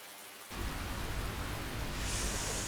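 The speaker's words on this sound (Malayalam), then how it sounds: "ഇത് മഴയുടെ സൗണ്ട് ആണോ ഈ ബാക്ക്ഗ്രൗണ്ടിൽ കേൾക്കുന്നത് എനിക്ക്?" Steady rain pours in the Naruto game, a dense wash of noise that starts abruptly after a brief quiet moment and swells slightly louder toward the end, with no voices.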